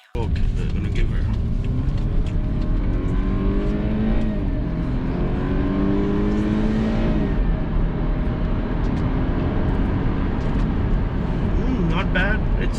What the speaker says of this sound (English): obviously the sound on this engine is nothing special